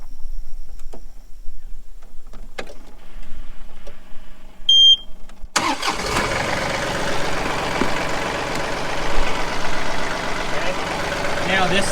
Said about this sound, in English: Now we're going to start the tractor.